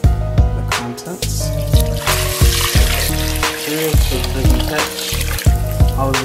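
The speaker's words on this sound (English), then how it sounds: "I'm going to pour the contents" Rosemary hair rinse poured from a container through a strainer into a glass container, giving a continuous close trickling and splashing of liquid with some clinking, over a background of music.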